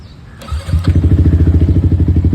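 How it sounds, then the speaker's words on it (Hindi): A Yamaha R15 V4 motorcycle fitted with a Leo Vince GP Corsa exhaust starts up close by, then settles into a loud, rhythmic, throbbing idle with steady pulsing beats. "अपना लियो विंसी जीपी कोर्सा वर्जन 4 में जो लगा हुआ है ये साउंड अच्छी लगी।"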